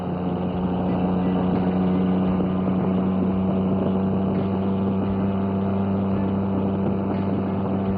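A three-wheeled golf cart motor drones steadily as it drives around a speedway under construction, a constant close engine hum with wind buffeting the microphone.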